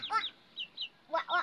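Chickens cluck in a few short, quick bursts with brief pauses between, nearby and fairly soft.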